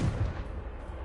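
Confringo explosive spell blasts in Hogwarts Legacy, a loud, dense low boom with a rumbling, crackling tail that stays heavy through the whole short burst.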